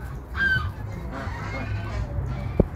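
Geese honk and farm fowl cluck at a somewhat dirty poultry farm, a few calls scattered over a low background murmur, with one sharp knock near the end.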